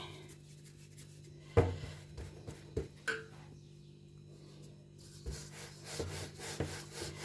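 Paratha dough for a large layered flatbread is rolled out with a wooden rolling pin, producing soft close rolling and rubbing strokes with a few light knocks, quiet and with no voices.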